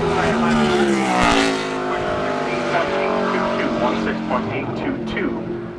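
Bobby Gerhart's number five Lucas Oil Chevrolet ARCA race car laps Toledo Speedway in 2012 Menards 200 qualifying, its loud engine droning and rising in pitch as it passes, with a voice talking over it.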